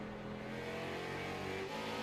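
Race car engines in the iRacing video game drone and rev steadily, a dense, fairly quiet buzz of several cars with shifting pitch and no talk over it.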